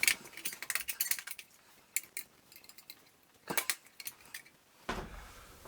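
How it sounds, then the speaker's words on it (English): Tin snips clip off excess material while fitting a water heater expansion tank, giving a series of sharp metallic snips and clinks in uneven bursts, close and fairly quiet, with no talking. "Take some tin snips and cut the excess off."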